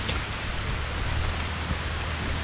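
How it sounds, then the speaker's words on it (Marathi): Heavy monsoon rain falls near a large banyan tree at Pemgiri Fort, a thick, constant hiss of downpour close by with no voices. "आता इथनं दिसत असेल फुल पाऊस येतो आहे, सगळं पांढरं झालं आहे."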